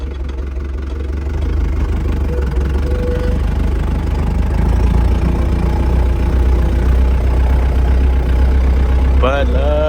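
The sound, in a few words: tractor engine running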